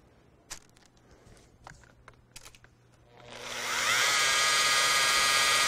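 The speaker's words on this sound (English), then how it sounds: "I basically just tickle the panel with the polisher so that I can get it to shine up for me" A few light taps and clicks, then a car polisher buffing clear coat spins up into a loud, steady, close whirring whine that holds to the end.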